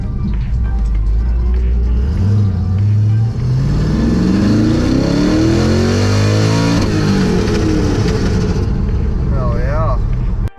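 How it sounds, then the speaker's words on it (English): A Nissan GT-R revs hard on a road near a Cars and Coffee show, its engine note climbing and sweeping up through repeated loud pulls, close by, with people talking over it. "There's the GTR."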